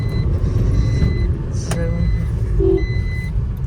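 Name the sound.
car driving in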